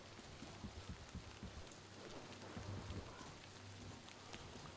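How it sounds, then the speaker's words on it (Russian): Steady rain in the post-apocalyptic shooter Metro Exodus, a dense continuous hiss with scattered droplet patter and faint low thumps, moderately loud and steady throughout with no talk. "Дождь еще пошел"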